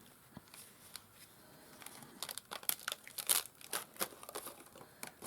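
Cut paper is peeled off a Magic Mat cutting mat in a run of soft crinkling and tearing rustles that grow denser toward the end, close and fairly quiet.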